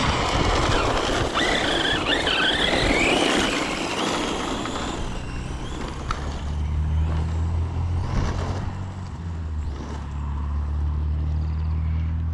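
The wheels of a Yikong DF7 truck spin and slip in sand, giving a loud, continuous gritty rush that settles into a lower steady rumble.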